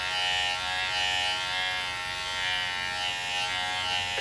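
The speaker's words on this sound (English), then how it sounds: "Sometimes when you move it in a certain direction, like if you're fading, you'll hear the motor change speeds or something." Caliber Magnum 357 hair clipper motor buzzing steadily up close, with a slight waver in pitch as the speed shifts, running alone without talk.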